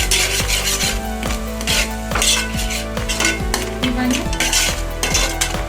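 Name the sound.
stirring eggs in pan for egg fried rice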